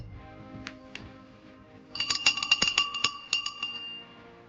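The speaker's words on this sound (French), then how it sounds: "Sonnez la cloche." A bell struck repeatedly in a team race during an extreme survival challenge, sounding as a burst of bright metallic clangs and rings after a couple of lighter clinks, close and fairly loud.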